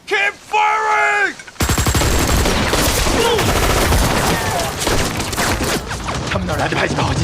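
Machine gun and rifle fire in a war battle scene, dense rapid bursts and shots filling the whole stretch after a brief shouted voice at the start, loud and close with overlapping fusillade.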